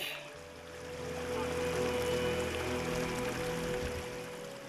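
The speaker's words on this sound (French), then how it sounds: "Une rivière s'écoule sur le côté du monastère, on entend le bruit." A river flows beside a Buddhist monastery, its steady broadband rush of moving water continuous and moderately distant, with a low tonal hum underneath and no voices.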